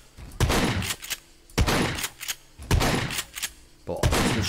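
Bursts of rapid gunfire in the video game SCUM repeat roughly every second, loud and booming, with a voice speaking in German between volleys.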